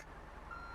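A reversing truck gives off a brief, faint electronic beep over a low engine rumble.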